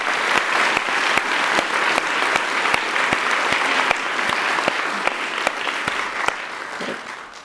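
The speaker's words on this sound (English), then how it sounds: "Can we get another round of applause for our graduating AU scholars?" A large crowd at a university honors convocation gives a round of applause for graduating scholars: sustained, dense clapping with some sharp individual claps standing out, tapering off near the end.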